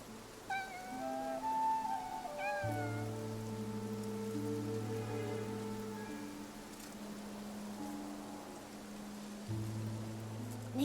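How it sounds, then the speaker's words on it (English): Steady light rain patters throughout a scene in the video game Infinity Nikki, soft and even, with a cat's meows and game music tones layered over it. "Nikki, it looks like it's going to rain."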